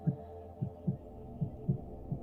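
Heartbeat sound effect with soft, low, muffled thumps arriving in close pairs, about six beats in all, quiet over a faint steady hum.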